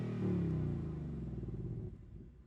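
A 2021 Hyundai i30 N with dual-clutch gearbox makes a launch attempt with wheel spin, its engine giving a loud, close, steady rumbling drone that slowly fades and wavers over a couple of seconds.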